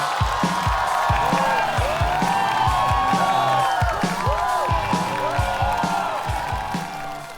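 A studio audience at a Chinese stand-up comedy competition breaks into sustained applause and cheering with whoops as a comedian takes the stage. The crowd stays loud and steady throughout, easing slightly toward the end.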